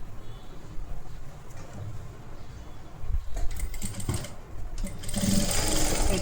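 A sewing machine stitches along the edge of a collar-neck blouse, its motor whirring in steady bursts that grow louder and denser toward the end.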